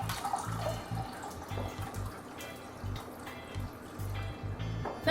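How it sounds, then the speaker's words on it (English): Four cups of water pour into a pot for Jamaican cornmeal porridge, a faint, steady trickle and dribble close by with low humming tones underneath and no talking. "We're going to start out with 4 cups of water. We're going to add that to our pot."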